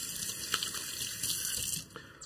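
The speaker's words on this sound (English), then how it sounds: "And let me rinse my hands" Hands rinsed under a running kitchen tap after handling raw pork, heard as a steady splashing stream of water into a sink with brief shifts as the hands move, close and unaccompanied by speech.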